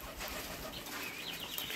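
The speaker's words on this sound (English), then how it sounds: "So those are the quail birds in the cage." Caged quail on an urban home farm, with soft bird calls and coos scattered over steady background noise, fairly close and not very loud.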